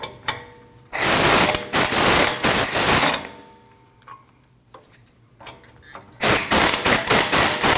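A ratchet loosens the 18mm bolts holding the rear control arm to the knuckle on a 2013-2019 Ford Escape, with loud, fast clicking bursts near the mic, a quieter gap, then another burst.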